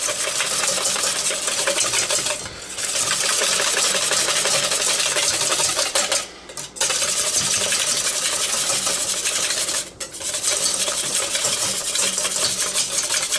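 Egg whites for eggnog whipped by hand in a bowl: a steady, busy scraping whir that goes on continuously, with brief pauses at regular intervals, close and fairly loud, no talking.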